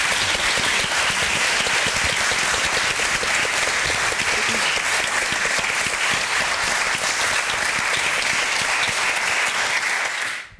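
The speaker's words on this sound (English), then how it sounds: "could we just have a round of applause for our panel?" A university debating-society audience applauds a panel, dense continuous clapping filling the room and holding steady throughout before cutting off at the end.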